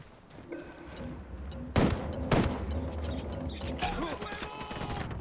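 Pistol gunfire in the video game Ghost Recon Wildlands, two sharp loud shots a moment apart amid game ambience and mechanical clatter, with more scattered shots and noise after.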